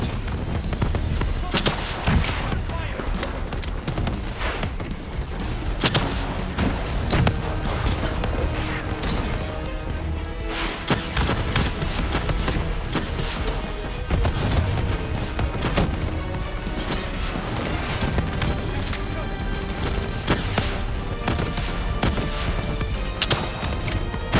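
Sustained gunfire from a Call of Duty: Black Ops 3 mission battle, dense rapid shots and heavy impacts layered with mechanical clanks and booms throughout, loud and continuous, with occasional voices under the combat.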